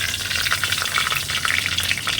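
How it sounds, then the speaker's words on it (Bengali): Bay leaves drop into hot oil in a pan while cooking paneer, giving a loud, close, continuous crackling sizzle with rapid spitting pops throughout. "এবার এই গরম তেলে আমি কয়েকটা তেজপাতা দিয়ে দিচ্ছি"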